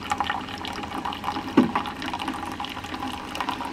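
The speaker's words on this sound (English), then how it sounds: "I love the sound of coffee being brewed in the Keurig" A Keurig coffee maker brews into a cup from a reusable K-cup, with gurgling, sputtering pours of liquid and a low pump hum, close and fairly loud.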